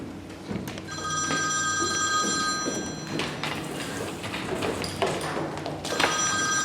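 Telephone bell ringing repeatedly in bursts, loud and close, with a brief pause between rings over a busy background of music and stage noise.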